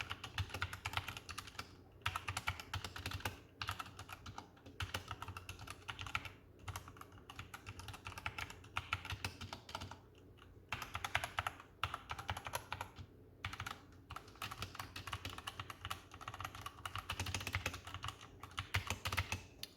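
Typing at a normal pace on a white Redragon K530 Draconic mechanical keyboard, a close, continuous stream of crisp key clicks and clacks in uneven bursts with brief pauses, heard alone.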